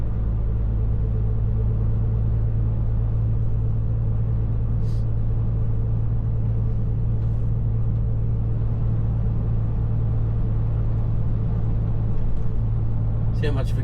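A truck engine pulls hard after dropping a gear while climbing toward 40 mph on a road, giving a steady, loud low rumble with no clear rev change and a brief rattle near the end.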